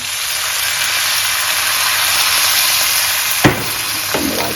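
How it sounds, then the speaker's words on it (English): White wine splashed into a hot pan of cooking mussels, a steady broad sizzle and steam hiss filling the kitchen, with a brief clink and stir near the end. "Okay, now I'm going to add some wine."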